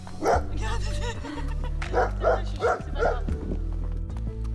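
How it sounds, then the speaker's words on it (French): Several dogs bark in short bursts, heard while riding out with a new horse; four or five sharp barks come close together over a steady low rumble, with no talk. "On croise des chiens qui aboient"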